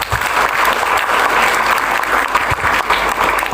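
Children in a classroom or pesantren gathering clap together on cue, a loud, busy patter of many small hands that stays full and steady for a few seconds with no speech.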